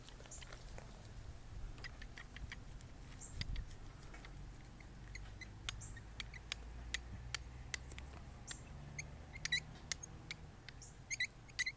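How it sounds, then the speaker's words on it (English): Irregular light clicks and knocks, sparse at first and then quickening, over a low mechanical rumble, fairly faint: a loose shaft slapping around inside a removed part from a 2001 Ford Taurus. "The hitting sound you can hear is the shaft"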